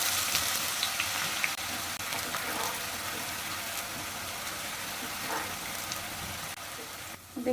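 Onions deep-frying in hot oil for birista: a dense, even crackling sizzle that holds steady and close throughout, with faint clinks and no clear talking.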